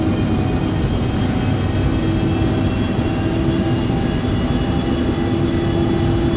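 A TBM turboprop drones steadily on final approach into San Diego in X-Plane 11, a loud, constant engine whine with a low rumble and no break or talk.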